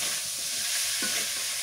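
Old potatoes are stirred and sautéed with spices in hot oil in a home kitchen, giving a soft continuous sizzle with occasional scraping stirs of the spoon, close and fairly quiet, with no talking.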